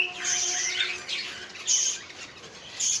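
Pet budgerigars in a home bird room chirp and squawk in short, shrill bursts that come in three or four bright clusters, close and fairly loud, with no voices.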